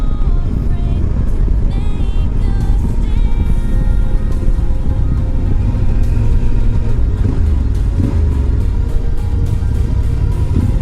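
A 2016 Yamaha Super Tenere motorcycle ridden on the road, its engine a steady loud low rumble with rising and falling revs throughout, blended with wind rush and no speech.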